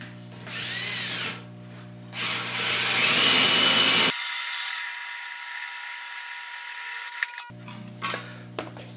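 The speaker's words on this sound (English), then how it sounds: "Those carbide tipped hole saws, the heavy duty ones, work really good." A heavy-duty carbide-tipped hole saw drills into wood, with short whirring bursts followed by a long sustained grinding cut, then the motor spinning down and a few brief revs.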